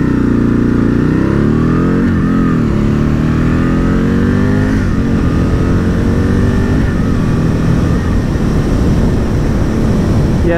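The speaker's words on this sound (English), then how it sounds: "Big thumping V-twin." Aprilia RSV Mille R with a big V-twin engine riding on the Isle of Man, loud continuous engine roar that climbs through gears with rising revs and shifts, close and alone.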